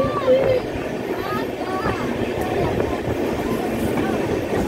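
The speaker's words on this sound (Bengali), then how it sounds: "আমাদের ট্রেন প্রবেশ করলো ধানমন্ডল স্টেশনে।" Passenger train rolling into Dhanmondal station, a continuous low rumble and rattle of carriages with faint wheel squeals, heard from inside the coach with voices in the background.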